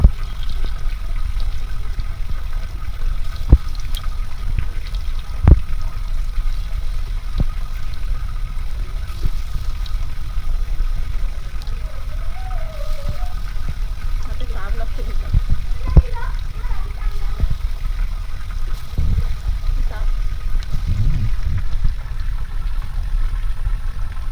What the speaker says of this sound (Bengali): তেলটাও কিন্তু গরম হয়ে গেছে এবার আমি ছোটো ছোটো করে বড়াগুলো দিয়ে দেবো